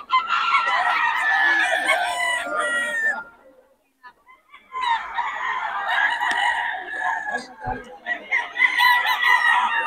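Roosters crow loudly and chickens cluck at the Bocaue tiangge market, in long bursts separated by a brief lull near the middle, with people talking nearby.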